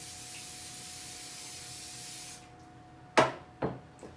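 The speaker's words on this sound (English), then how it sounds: "we're going to coat our baking tray with cooking spray" Cooking spray hisses steadily onto a baking tray for over two seconds, then stops, followed by two sharp knocks as the tray or can is handled.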